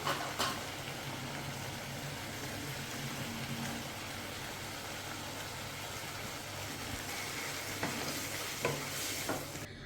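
Prawn masala sizzles and bubbles steadily in a pan at close range, with a few soft clinks of a spoon.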